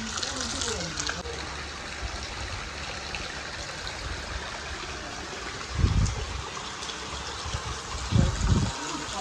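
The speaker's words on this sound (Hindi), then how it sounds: "पानी कितना प्यारा आ रहा है, क्रिस्टल वाटर आ रहा है" Clear water flows and splashes continuously at a hilltop temple in Reasi, a steady near rush with a few louder gushes, while people talk over it.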